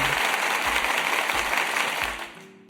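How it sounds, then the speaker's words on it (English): An audience on a talk show gives a round of applause, steady dense clapping with low thumps underneath that fades out toward the end. "you give me a round of applause."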